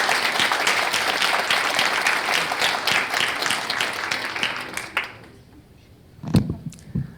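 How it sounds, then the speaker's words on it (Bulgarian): A live audience claps loudly and steadily at the close of an evening event, the dense applause thinning and fading out after about five seconds, followed by a few scattered claps and brief noises. "Аплодисменти са за вас."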